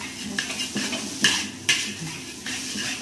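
Seafood fried rice is stirred and pressed in a wok, with a metal spatula clanking and scraping against the pan in quick strokes over a faint sizzle.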